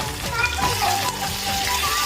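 Mustard seeds, cumin and garlic sizzle in hot tempering oil for a palak pappu sambar, a steady close crackling hiss under a voice talking.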